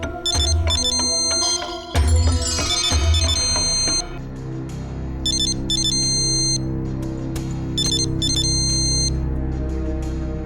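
A phone ringtone plays a repeating electronic tune in bursts, loud and close, ringing on with no answer and no voices.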